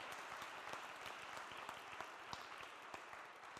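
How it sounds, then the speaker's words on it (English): Applause and cheering from a crowd at a Trinity college cap and gown ceremony, a dense steady roar of many hands clapping with scattered sharper claps throughout, held at an even level. "yes, clap for that"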